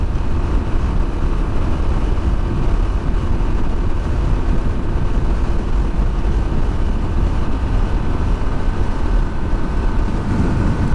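Steady engine drone and rushing wind from a 2021 Moto Guzzi V7 850 Special cruising at 70 mph in sixth gear around 4,000 rpm, a constant loud roar with no breaks.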